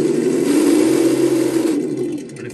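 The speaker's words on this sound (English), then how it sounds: "It does make noise in reverse." Simulated engine rumble from a sound module fitted to a Redcat Gen8 V2 RC crawler, a steady loud drone that eases off slightly toward the end, with no talking.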